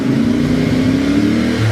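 A 2024 CF Moto 450 MT motorcycle engine holds a steady rev near 4,000 RPM, a loud, even droning hum that stays constant for under two seconds with no voices.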